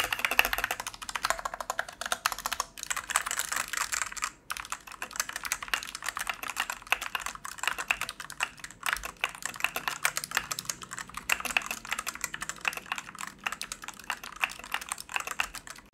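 Rapid, steady typing on a portable mechanical keyboard, a dense run of close, crisp key clicks and clacks with brief pauses, continuing alone without any talking.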